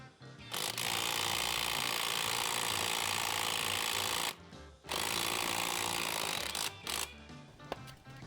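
A wrench works a rusty bolt on a golf cart with long loud bursts of harsh mechanical grinding and ratcheting. The noise breaks off abruptly twice before starting up again.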